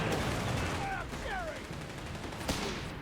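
Machine gun fire from a Company of Heroes 3 battle rattles in quick bursts under faint background noise, with one sharper crack near the end, while a commentator talks over the action.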